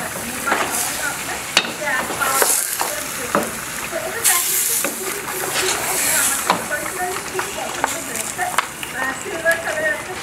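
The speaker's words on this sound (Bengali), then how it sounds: "এই যে মাংসটা ভুনা হচ্ছে" Beef bhuna frying in a pan: a steady close sizzle and hiss, with scraping stirring strokes scattered throughout and a voice talking over the cooking.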